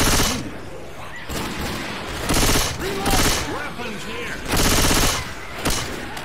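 Bursts of machine gun fire in Left 4 Dead 2, loud rapid volleys in several clusters over a few seconds, mixed with shouting players and chaotic game noise.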